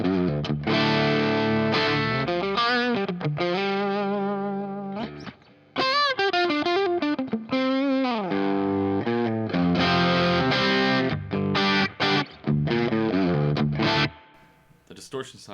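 An electric guitar plays through the distortion side of an overdrive pedal, comparing the Analogman King of Tone and the Boss SD1. Driven, crunchy chords and single-note runs ring out loud and close, with a few brief pauses.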